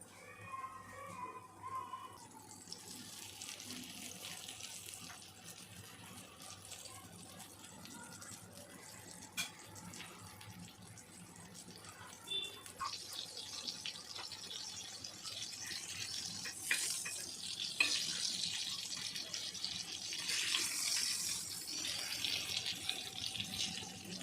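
Bangda mackerel frying in oil on a hot tava, a steady crackling sizzle that runs throughout and grows louder and denser in the later half, with no voices.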